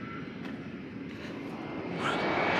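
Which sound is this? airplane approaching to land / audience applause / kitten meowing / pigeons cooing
airplane approaching to land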